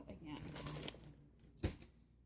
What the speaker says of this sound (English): And then I tape the flap again.